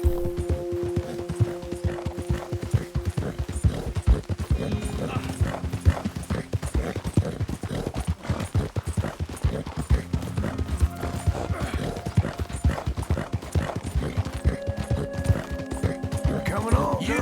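Horse hooves clip-clop at a steady gallop in the video game Red Dead Redemption 2, with the horse neighing now and then under a continuous bed of music and game ambience.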